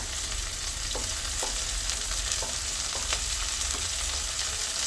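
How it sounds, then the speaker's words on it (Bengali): Dried kashki fish crackles in a thin layer of oil in a pan, a constant sizzle broken by soft, periodic stirring scrapes. "এখন হালকা তেলে ভেজে নিব"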